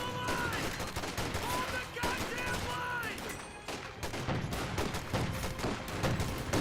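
Rapid gunfire and explosions rattle through a Company of Heroes 2 battle with Panzer tanks, dense bursts of machine-gun fire and booms overlapping continuously at close range.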